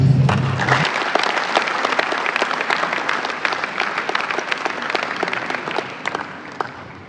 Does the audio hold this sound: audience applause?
yes